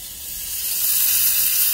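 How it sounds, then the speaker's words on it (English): Cherry-glazed halibut sizzles on a hot grill, a steady bright hiss that grows slightly louder, heard alone without speech. "You just hear all the sizzle going on here."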